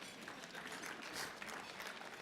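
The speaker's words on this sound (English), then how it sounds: "That deserves an applause as well." Audience applause at an awards night, a steady wash of clapping from a crowd in a banquet hall, sustained and fairly even throughout with no voices standing out.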